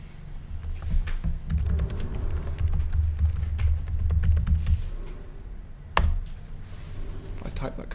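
Clicky keyboard typing during Linux console setup, a steady run of close, dense keystrokes over a low background hum, with a short pause near the end before a few more taps.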